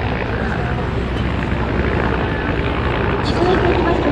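A military helicopter armed with a 12.7 mm heavy machine gun flies during a combat training display at the Okadama air show in Japan, giving a continuous loud rotor and engine rumble while an announcer talks over a public address system.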